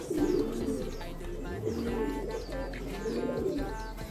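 Pigeons from Taiwan, a mated pair kept indoors, give soft, close, repeated throaty coos over a steady low background hum.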